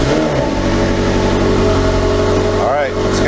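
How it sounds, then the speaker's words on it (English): A McLaren sports car engine fires on a cold start, giving a loud, steady, close-up roar with a brief dip and rise in revs near the end. "Let's get a cold start in."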